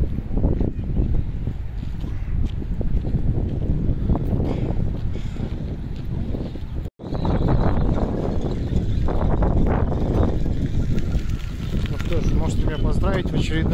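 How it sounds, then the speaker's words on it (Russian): Strong gusting wind on a blustery day around a Vancouver campus, roaring and buffeting the microphone almost continuously, with a brief dropout midway before the heavy rumbling rush resumes. "снимать ветреную погоду. И звучит это как-то так"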